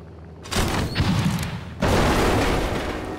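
A bomb blasts against a cargo door in the VR game I Expect You To Die: two loud, close explosive bursts, the second heavier and longer, each rumbling out over a couple of seconds.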